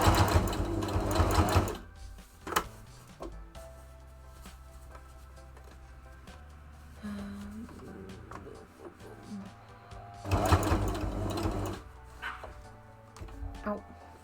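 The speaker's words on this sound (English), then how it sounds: "It is gonna be a bit louder, the sewing machine" A sewing machine stitching shorts whirs in two loud bursts of rapid stitching, with quieter handling noises and a small dog whimpering faintly between runs.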